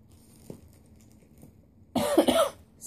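A person coughs once in a loud, close, dry burst lasting about a second, following a couple of faint earlier sounds in an otherwise quiet room.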